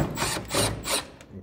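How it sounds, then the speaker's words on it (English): Phillips head screws being backed out of a mini-split indoor unit, heard as several close, gritty scraping bursts of a screwdriver turning, alone with no talk. "that exposes some Phillips head screws that need to come out"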